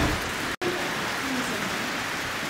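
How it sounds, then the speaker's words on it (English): Freezing rain pours down steadily on a farm during an ice storm, a dense, even hiss that continues throughout, with a brief dropout early on. "Oh, well, it's freezing rain."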